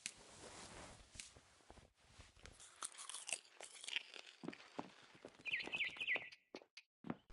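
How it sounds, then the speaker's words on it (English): In the video game What Remains of Edith Finch, a barn swallow chirps outside a window in a quick bright trill near the end, preceded by loud crunching and chewing sounds close by. "Then I heard chirping outside my window. It was a barn swallow going back to her nest."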